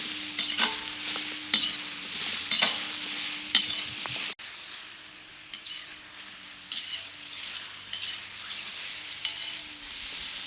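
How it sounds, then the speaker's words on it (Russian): Meat sizzles and fries in a kazan outdoors, a steady crackling hiss broken by occasional scraping stirs, with no talking. "Все, и быстренько-быстренько обжариваем."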